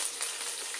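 Curry leaves crackling in hot oil, a bright continuous hiss with small pops, close and brief.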